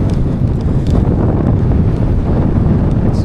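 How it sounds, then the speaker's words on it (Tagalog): Strong wind buffeting the microphone outdoors during a bike ride, a loud continuous low rumble with no voices. "It's very windy."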